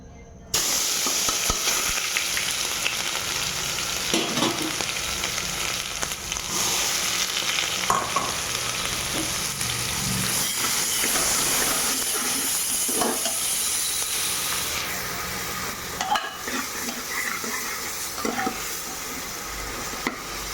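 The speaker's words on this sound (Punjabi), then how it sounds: "ਇਹਨੂੰ ਆਪਾਂ ਚੰਗੀ ਤਰ੍ਹਾਂ ਭੁੰਨਾਂਗੇ" Ingredients sizzling and being stirred in hot oil while roasting for a Punjabi-style aloo matar sabzi, a steady loud frying hiss with occasional scrapes of the spoon, no voices.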